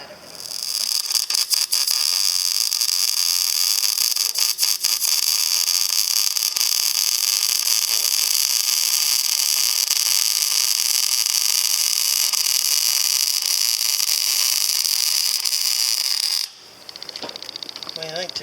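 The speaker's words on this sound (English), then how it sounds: "I'll wire brush that crap out of there so I got a nice good weld" A power wire brush scours paint off a pickup exhaust header, giving a loud, steady, high-pitched whirring rasp that runs nonstop for about sixteen seconds and then cuts off abruptly.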